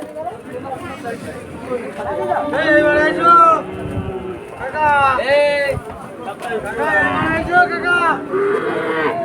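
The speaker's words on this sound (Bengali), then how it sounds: "এই যে আসতেছে গরু" Cattle arriving at the Chuknagar cattle market, several animals mooing loudly in drawn-out calls amid the shuffle of running hooves, with people talking in the background.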